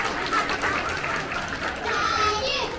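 An audience of families and children applauds at Tokyo DisneySea's Turtle Talk show, light scattered clapping mixed with excited kids' chatter and voices, moderately close and steady.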